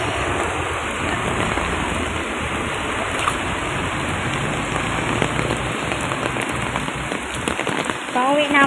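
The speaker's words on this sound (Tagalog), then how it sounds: "Ang lakas ng ulan guys." Heavy rain pours steadily in a dense, hissing roar, close and constant throughout, with no voices heard.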